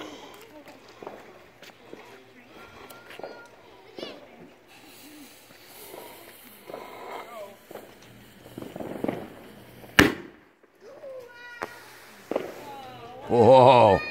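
A Green Fish firework goes off outdoors on a holiday weekend, with faint crackles and a single sharp pop, then a brief louder fizzing, swirling burst near the end. People talk and exclaim throughout.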